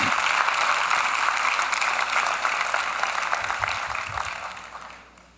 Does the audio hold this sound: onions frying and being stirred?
no